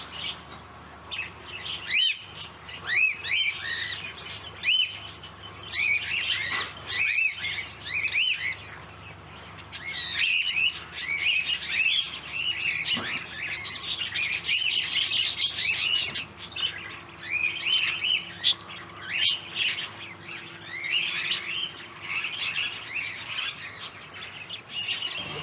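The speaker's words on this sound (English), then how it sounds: "different birds of the territory" Wild birds of the Australian outback near the WA/NT border chirp and call from several directions, a busy chorus of tweets and squawks rising and falling, close and fairly loud, with no talking.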